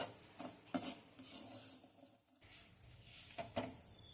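Barnyard millet being dry-roasted on medium flame and stirred in a pan makes quiet, scattered scraping and rustling strokes, faint and close, with no voices.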